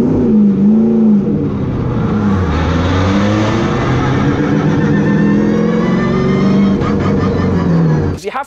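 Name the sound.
car engine revving as clutch engages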